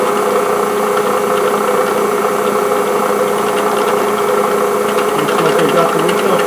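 Bridgeport milling machine taking a cut across wood to clean up a bandsaw cut, a loud steady motor drone and whir with a faint rough rattle of the cutter throughout, no talking.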